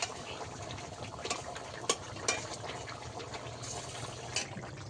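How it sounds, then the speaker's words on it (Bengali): Fish curry with potatoes bubbles in a pan, a soft steady simmer with occasional small pops and splashes heard close up and alone. "মাছগুলো একটু বিছিয়ে বিছিয়ে দেবো, ভালো করে ফুটিয়ে নেব।"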